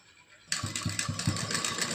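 A sewing machine starts up and runs steadily while stitching a diamond-neck blouse lining, its needle thumping in a fast, even rhythm close by with a continuous motor whir.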